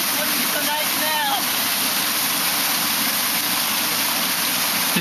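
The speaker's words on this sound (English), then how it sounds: "Just a bunch of melting snow coming down the mountain." A mountain waterfall fed by melting snow rushes steadily and loudly, a dense continuous roar close by, with faint brief chirps early on.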